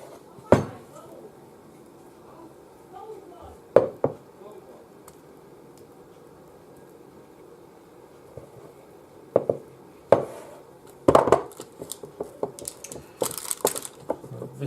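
Cookie pie dough spooned into a skillet: soft scrapes and dull thuds come in scattered bursts, with a sharper clatter of spoon on pan near the end, close and moderately loud.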